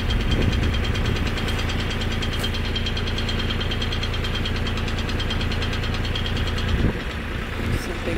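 Tractor engine running close by, a loud, steady knocking idle with rapid even pulses and a rattle, continuing with a brief dip near the end.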